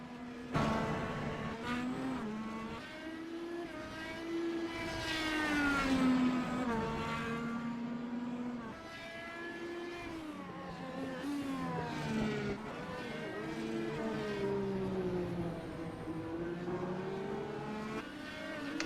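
IndyCar race cars lapping the Road America road course in the iRacing sim, engines whining and rising in pitch through gear changes, with occasional tire squeal, steady and continuous with no talk.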